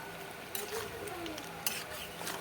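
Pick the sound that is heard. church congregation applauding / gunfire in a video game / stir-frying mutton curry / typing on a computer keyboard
stir-frying mutton curry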